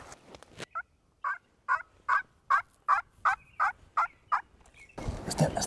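A wild turkey gobbles during a hunt in a rapid series of about nine evenly spaced, moderately distant gobble notes, followed by a burst of rustling noise.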